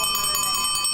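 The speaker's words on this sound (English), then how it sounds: "Ring your bell." Bicycle bell ringing on a tropical fruit bike tour in Key West, a rapid bright trill of repeated metallic dings, close and loud throughout.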